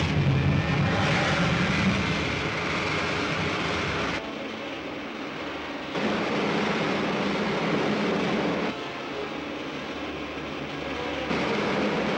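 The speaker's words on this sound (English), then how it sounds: "Fire main jets. Fire main jet." A rocket ship's main jets fire in a continuous loud, rushing roar that shifts abruptly in level every few seconds, with no voices over it.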